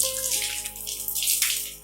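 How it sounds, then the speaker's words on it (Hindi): Water runs from a tap in a newly fitted bathroom, a close, steady splashing gush with a slightly fluctuating hiss and no talking over it. "पानी भी आ रहा है।"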